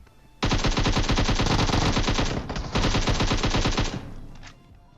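Rapid automatic gunfire from PUBG Mobile, two long sustained bursts of loud, close shots separated by a short pause, with no speech over them.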